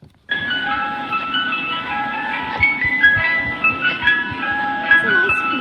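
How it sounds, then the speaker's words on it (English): An emergency alert alarm whose melody resembles an ice cream truck jingle, a tinkling series of tones playing steadily for several seconds, with faint voices and room noise beneath. "It's an ice cream truck."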